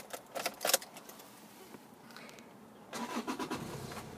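Silver manual Toyota Yaris T3 diesel with 115,282 miles, keys jangling briefly near the start, then a pause before the engine cranks and catches first time, rising into a steady close idle.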